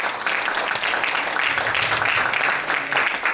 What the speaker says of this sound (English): Let's give Vince a round of applause.